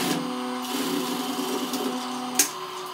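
Sewing machine running a second pass of a French seam on joggers, a close, steady motorized hum that holds for about two seconds and ends with a short click.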